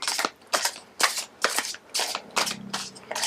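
Tarot cards being shuffled by hand, about seven quick riffling bursts in a steady rhythm roughly every half second, close and crisp with no talking.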